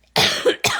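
A single harsh cough in two quick bursts, close and loud, from a person with a lingering cough.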